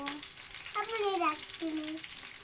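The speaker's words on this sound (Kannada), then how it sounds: "ನೀಟಾಗಿ ಚೆನ್ನಾಗಿ ಫ್ರೈ ಮಾಡೋದು" Food frying in a pan in a home kitchen: a steady, close sizzling hiss runs throughout, with a few brief higher tonal sounds drifting over it.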